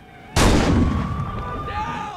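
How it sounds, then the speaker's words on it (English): A sudden loud explosion from the Saints Row 2 video game booms out and then settles into a long rumbling, crackling decay, with a faint tone lingering over the tail. "Whoa, what was that explosion?"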